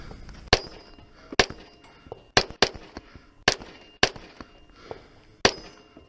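Sharp gunshots at a shooting match stage as targets under an SUV are engaged, about eight distinct cracks spaced irregularly roughly half a second to a second apart, each followed by a brief ring, with no talking.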